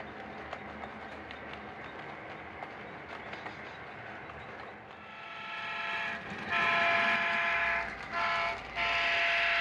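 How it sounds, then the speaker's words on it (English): Cotton Belt local freight train 61 rolling through the small town of Weiner, a steady rumble of wheels and cars that grows louder midway, with strong sustained horn-like tones sounding near the end. "watching train 61 roll through town"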